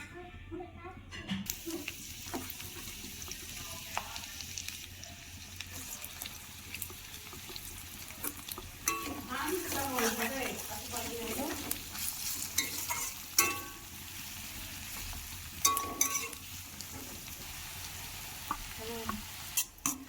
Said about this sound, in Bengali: কড়াইয়ে কিছু সাদা তেল দিয়ে দিয়েছি। এবার আমরা পেঁয়াজের বেরেস্তাটা করে নেব।